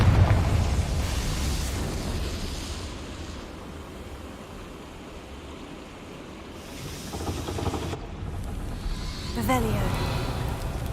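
A Confringo explosive spell bursts in Hogwarts Legacy, a loud boom at the start rolling into a long rumbling wash, followed by later crackling blasts while a person talks.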